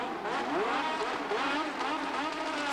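Formula 1 race cars at the race restart of the 1987 Belgian Grand Prix, a continuous loud howl of engines with rising and falling pitch sweeps as the cars pass, heard from a broadcast perspective.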